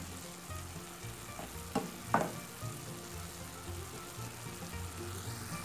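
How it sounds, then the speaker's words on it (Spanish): Crushed tomato simmers with ground meat in a pan, a steady soft sizzle of frying with a couple of brief stirring scrapes near the start, close and fairly quiet throughout. "Y agregamos el jitomate triturado, que se cocine"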